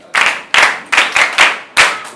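A crowd at a school ceremony in Greater Accra claps for the MC in about six loud, unified bursts, each a sharp group clap that quickly fades before the next.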